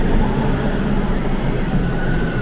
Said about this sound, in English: Here comes a westbound train.